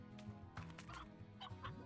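Chickens cluck repeatedly in the video game Slime Rancher, short bursts of clucking over a steady background music bed with no talking.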